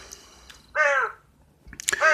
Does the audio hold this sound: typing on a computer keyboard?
no